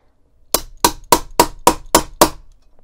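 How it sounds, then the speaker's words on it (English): A hammer strikes a metal snap setter on a hard hammering surface, seven sharp, evenly spaced whacks in a quick rhythm, close and loud with no talking. "just give it a few firm whacks with the hammer"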